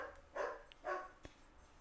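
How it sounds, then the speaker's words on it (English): Dogs bark twice in the distance, faint muffled woofs about half a second apart over a low steady background hum. "If you guys hear the dogs, my bad."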